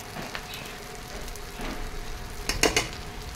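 Hot cooked rice fries with garlic in a pan over a medium-to-low flame, a soft, steady sizzle with light stirring and a brief cluster of utensil clinks near the end, no voices.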